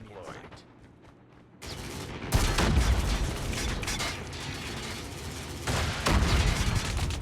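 Call of Duty Mobile combat brings a sudden blast followed by dense, loud bursts of gunfire and explosive crackling, with a player's voice talking over the battle.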